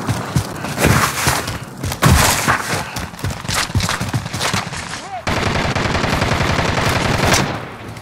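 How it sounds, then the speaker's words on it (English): Rapid automatic gunfire and thudding shots in Call of Duty Warzone, loud dense bursts of rattling fire with impacts layered over game effects throughout. "They're shooting at me!"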